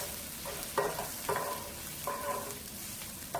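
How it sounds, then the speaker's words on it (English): Onions and spring onion sauté in a pan for Indomie noodles: a steady sizzle under a few ringing scrapes of a utensil stirring against the pan at uneven intervals, close and fairly quiet, no talking. "Our onions is nice and saute. I'm going to add a spring onion as well. And stir it for a few minutes"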